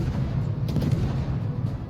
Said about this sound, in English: I'm just shooting at this guy